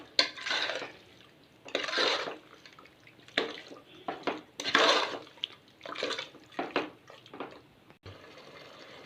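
Quail pieces marinated in masala with chilli powder, salt and yogurt are slowly stirred in a pot for biryani, giving irregular wet scraping and squelching strokes, close and moderately loud.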